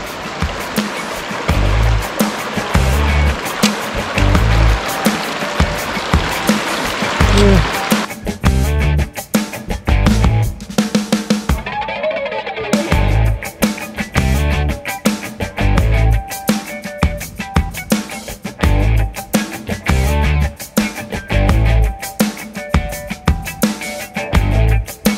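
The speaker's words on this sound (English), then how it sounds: "Crossing Rock Creek again." Rock Creek on the John Muir Trail rushes past as a hiker wades across, a loud close wash of flowing stream water with rhythmic low thumps of steps and splashing throughout.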